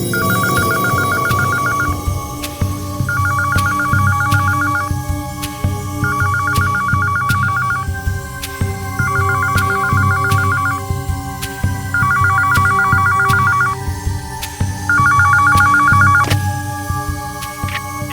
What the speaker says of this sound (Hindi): आधी रात के बाद एक फोन आया था साहब